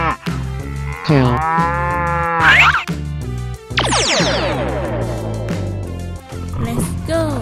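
A cow moos loudly several times in a row, long drawn-out lowing calls with sweeping pitch, close and clear, with short gaps between them and no talk.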